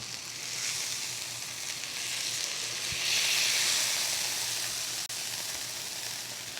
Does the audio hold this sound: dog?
no